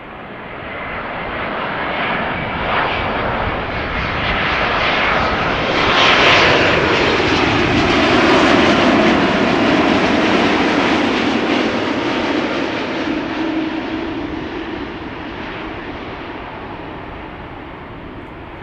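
TUI Flight 393 airliner at Schiphol Airport, jet engines roaring as it passes close by, a loud broad rush that builds to a peak mid-way with a sweeping whine, then slowly fades.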